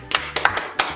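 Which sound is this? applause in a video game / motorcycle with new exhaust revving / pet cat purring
applause in a video game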